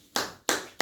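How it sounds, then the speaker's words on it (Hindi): An audience at a spiritual discourse claps, making three sharp, close bursts of hand claps at a steady rhythm with no talk. "ताली बजाओ।"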